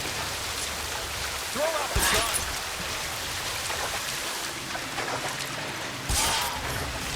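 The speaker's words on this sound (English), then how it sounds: "it's raining very hard" Heavy rain pours down steadily in the video game LA Noire, a dense hiss lasting throughout with a few brief louder splashes, while someone talks over it.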